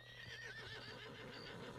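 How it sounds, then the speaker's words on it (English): A horse in the video game Red Dead Redemption 2 whinnies while its hooves clip-clop as it approaches, a short, quiet game sound with no one talking. "I now have to wait for my horse to come here."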